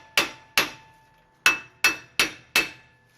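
Six sharp metallic hammer blows ring out on a car's rear wheel hub being knocked loose, coming in two quick pairs and then a faster run of four, each strike close and loud with a short ringing tail.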